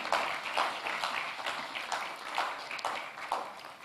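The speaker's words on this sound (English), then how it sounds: "A round of applause for them" Applause from an audience at a fintech challenge semi-final event, a steady wash of clapping with no single dominant clap, moderately loud and filling the room.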